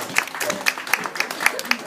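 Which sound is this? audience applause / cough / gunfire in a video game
audience applause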